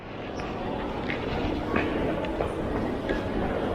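A train passes in Switzerland, a steady loud rumble with faint clickety-clack from the wheels over the whole stretch and no break in the noise.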